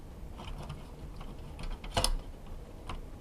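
Parts of a Dell Optiplex 980 SFF desktop clatter and click as its CPU cooler is worked loose, with scattered faint mechanical ticks and one sharper metallic knock near the middle, close and quiet.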